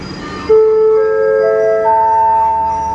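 A long-distance southern line passenger train in Thailand running, steady loud rumble with a sustained tonal chime or horn-like note starting partway through and holding to the end.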